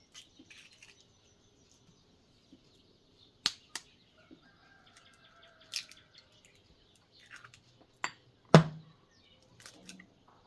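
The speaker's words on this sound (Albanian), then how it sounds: "do të thyejmë vezët" Fresh eggs cracked in a kitchen for a squash, milk and egg casserole give a few sparse, sharp close-up cracks and small taps, with one louder crack near the end and quiet between.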